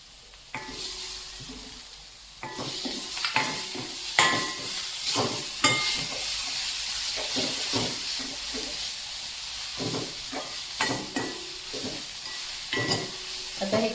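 Onion and tomato with salt sauté in a pan for a rajma masala, giving a continuous sizzle and hiss broken by repeated stirring scrapes and clacks of a spoon against the pan, with no talking.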